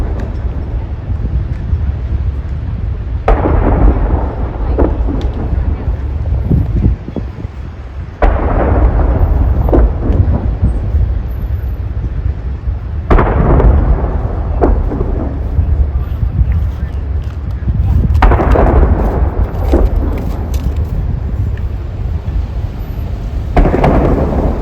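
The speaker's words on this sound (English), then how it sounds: "There's the salute gun." Ceremonial salute guns fire at a state funeral procession for President Jimmy Carter near Capitol Hill, about five heavy booms spaced several seconds apart, each rolling and echoing outdoors over steady crowd and traffic murmur.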